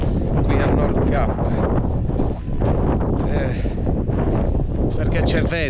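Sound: cold wind at Nordkapp, Norway

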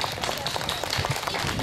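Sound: audience applause at a dance school concert

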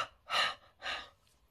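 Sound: breathing on glass

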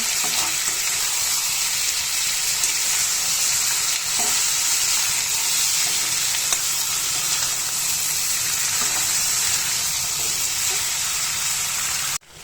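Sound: eggplant being stir-fried with spices in a pan

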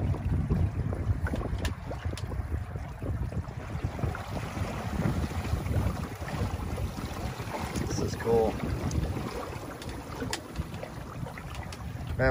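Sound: Windrider 16 sailboat sailing on water

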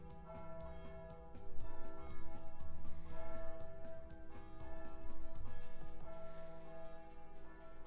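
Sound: church bells ringing at Easter

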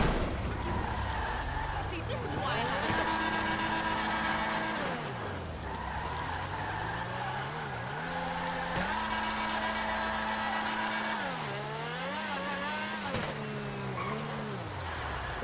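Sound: car driving and skidding in the video game GTA V

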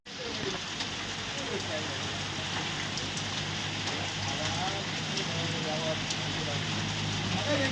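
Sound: heavy morning rain in Basavakalyan

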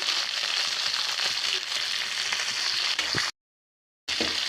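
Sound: ivy gourd frying in a pan

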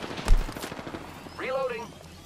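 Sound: gunfire in the video game Apex Legends

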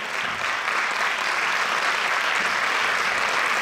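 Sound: audience applause for the choir

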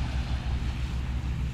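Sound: ferry to the island passing on the water

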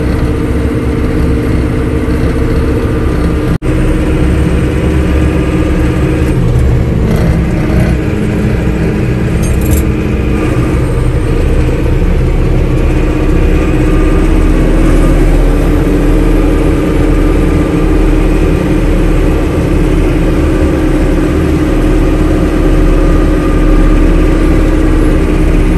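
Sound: loader engine running

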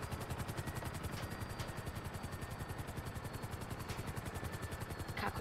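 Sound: helicopter going down in a video game

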